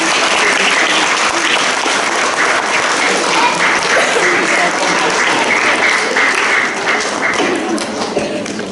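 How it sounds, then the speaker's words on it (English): A school celebration assembly crowd gives a long, loud round of applause for a young drummer, dense clapping sustained for nearly nine seconds with scattered sharper claps and thumps. "Could we get one more round of applause for Vensel?"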